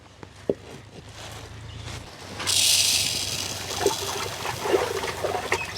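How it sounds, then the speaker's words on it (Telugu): After a quiet start, water pours into a pot with a sudden rushing splash that settles into a steady trickle, close and fairly loud. "కొద్దిగా నీళ్ళు పోసుకుందాం"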